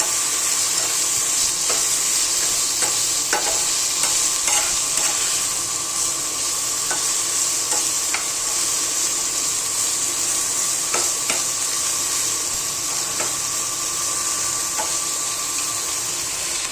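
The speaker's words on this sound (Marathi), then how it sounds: "आता याला आहे ना चांगला परतवून द्यायचं." Bitter gourd (karela) stir-fries in oil, producing a loud, constant hiss and sizzle close to the pan, with intermittent scrapes and taps of a spatula stirring the pieces, no voices.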